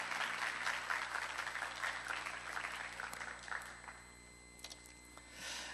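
A church congregation claps to welcome a pastor to the front, a soft, fairly distant round of applause that thins out and fades to scattered claps toward the end.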